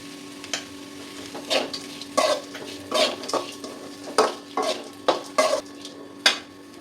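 Spoon clinks and scrapes against a pan while cooked lentils with beans and grated coconut are stirred, roughly a dozen short close scraping strokes in an irregular rhythm over a soft background hum, no talk.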